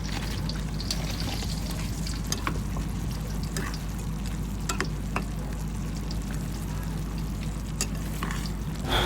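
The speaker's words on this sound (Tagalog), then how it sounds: "Tapos santayin lang natin na kumulo yung sauce." Orange chicken sauce bubbling in a pan, a dense continuous close sizzle and simmer with small scattered pops over a low steady hum, no speech.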